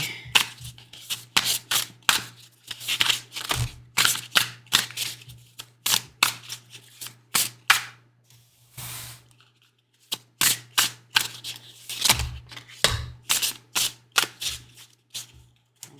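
Tarot cards are shuffled repeatedly in crisp riffling bursts and taps, with brief pauses between rounds and a low steady hum underneath.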